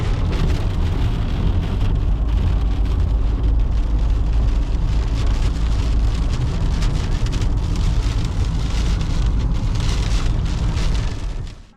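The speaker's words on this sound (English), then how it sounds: "Okay, it's hailing." Hail drums on a car in Prescott, Arizona, a loud, dense, continuous patter and rumble of ice hitting metal and glass, heard close up from inside the vehicle.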